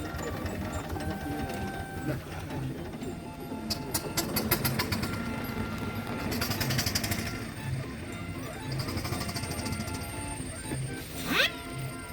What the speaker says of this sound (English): this was a fine looking traction engine, beautifully kept, working like a sewing machine